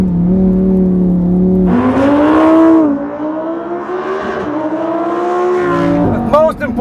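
Lamborghini Huracan EVO engine on a straight, a loud, close, sustained drone whose pitch rises and shifts through gear changes, with a voice talking over it near the end.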